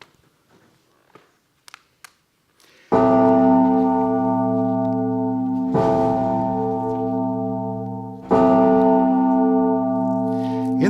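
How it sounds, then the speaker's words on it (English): A tower bell tolls slowly as a death knell, three heavy rich strikes spaced about three seconds apart, each ringing out and fading, after a few faint clicks and knocks in a quiet room. "In the darkness, the bell in the tower tolls. This time it is long and slow, a dirge, signaling a death."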